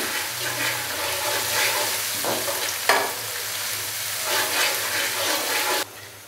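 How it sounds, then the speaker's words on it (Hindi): Ginger-garlic paste fries and sizzles steadily in a pan for chicken pulao, with the hiss rising and falling as it is stirred, then cutting off abruptly near the end. "अदरक और लहसुन के पेस्ट को हल्का सा फ्राई करेंगे।"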